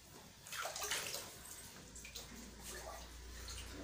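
Dirty water from a home aquarium pours into a bucket, a faint, continuous splashing and gurgling stream with a low hum behind it.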